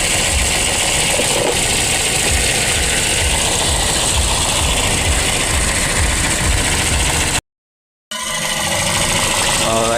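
A 2010 second-generation Toyota Vios engine idles nearby with a steady, rough hum after a throttle body cleaning, then cuts out briefly to silence before the rumble resumes.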